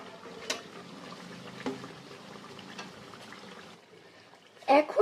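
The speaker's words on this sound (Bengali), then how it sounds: "এবারে এই তৈরি করা ফোড়নটা এর মধ্যে ঢেলে দেব।" Prepared tempering is poured over fried onions for beef kala bhuna, a soft, low liquid sizzle and trickle, nearby and quiet, ending in a brief louder splash.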